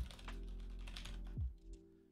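Keys clatter on a computer keyboard in quick, faint taps, a steady stream of typing that trails off near the end, with no talking.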